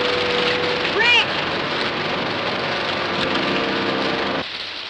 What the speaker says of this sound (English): There's your rain, but good.